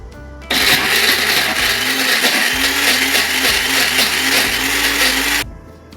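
A mixer grinder grinding spice paste with water switches on with a loud, steady, close whirring roar that runs for about five seconds, then cuts off and winds down, with no talk.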